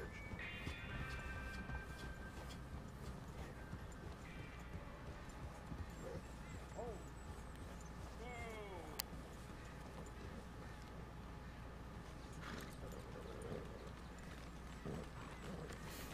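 Horse hooves clip-clop steadily through Red Dead Redemption 2 gameplay, a continuous rhythmic patter under game ambience and scattered bird calls, with no one speaking over it.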